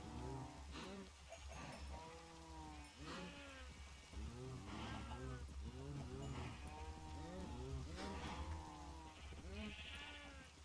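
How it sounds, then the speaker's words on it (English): Minecraft cows moo over and over in dense, overlapping calls, loud and near, with a few sheep bleats mixed in and no talking. "I am in a sea of cows."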